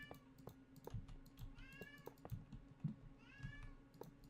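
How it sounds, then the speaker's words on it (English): A house cat meows repeatedly nearby, three or four rising calls over a soft background of computer keyboard typing and mouse clicks. "I have no idea why he's meowing."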